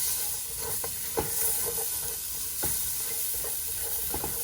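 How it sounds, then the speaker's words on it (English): Diced onion and pepper sauté in a pot for Mexican caldo de albóndigas, a steady close sizzle and hiss with occasional spoon stirs and scrapes throughout. "add to this our diced onion and that pepper there. Just kind of saute that in."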